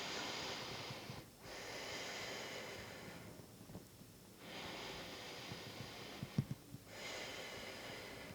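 Slow, deep breaths during a beginner yoga class for neck and shoulders, soft and close, with long airy inhales and exhales separated by brief quiet gaps.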